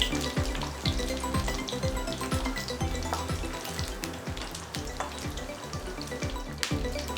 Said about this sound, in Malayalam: ഇപ്പോൾ ഞാൻ ഫ്രൈ ചെയ്യുന്നത് മുട്ടയുടെ വെള്ളയിൽ നമ്മൾ ബീറ്റ് ചെയ്തെടുത്തതിന് ശേഷം മുക്കി ബ്രെഡ് ക്രംസ് ആഡ് ചെയ്തിട്ടുള്ളതാണ്